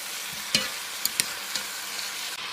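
Beef caldereta being stirred in a pan with pepper and fish sauce, a soft low sizzle throughout with a few sharp spoon scrapes and clicks against the pot, close up.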